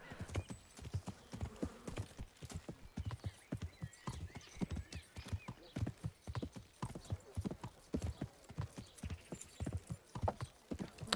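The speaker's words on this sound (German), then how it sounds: "Mein Pferd kann er nicht aufholen." Galloping horse hooves in the video game Kingdom Come: Deliverance, a rapid continuous clip-clop rhythm close up, with a brief whinny and faint game ambience, fairly quiet overall.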